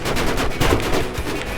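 Eight tank cannons fire at once in a video game, producing a dense, loud barrage of overlapping booms. The blasts run continuously for a second and a half with no pause.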